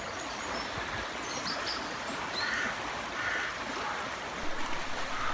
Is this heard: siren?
no